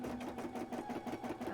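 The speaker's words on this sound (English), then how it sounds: "my machine is sewing the bit that goes over the edge right now" A sewing machine runs steadily, stitching an edging piece on cosplay fabric, a soft, even, rapid rhythmic whirr that stays quiet and close throughout.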